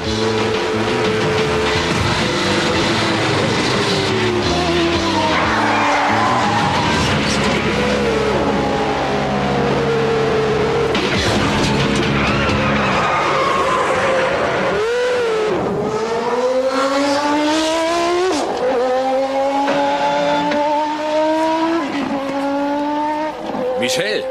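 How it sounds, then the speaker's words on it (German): Race cars roar through a tight curve, one overtaking another, with loud rising and falling engine whines and squealing tires, under constant talk and background score of an animated racing series. "Der muss verrückt sein, in einer solchen Kurve zu überholen."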